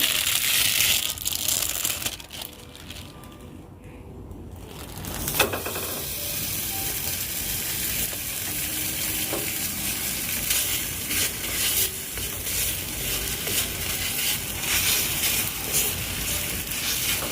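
Food frying on a new tawa, a constant loud hiss and sizzle running throughout, dipping briefly early on before settling into steady crackling.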